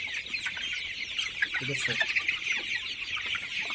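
Healthy farm chickens, a tiger chicken breed, cluck busily and overlap in a lively flock, close and steady throughout, with a brief spoken phrase in the middle.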